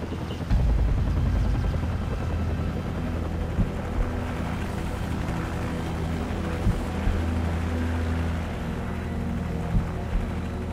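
A helicopter in the Call of Duty 4 video game, a loud continuous rotor and engine drone that holds steady throughout with a few brief thumps over it.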